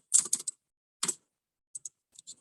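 Keys on a computer keyboard being typed to enter a terminal command: a quick burst of several clicks, a single short cluster a moment later, then a few sparse isolated taps, fairly close and with no talk.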